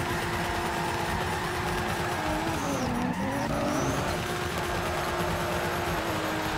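Drifting car in the racing game Torque Drift, a steady engine drone with tires skidding and squealing throughout, the pitch dipping briefly mid-slide before the engine note picks back up, loud and continuous with no talk.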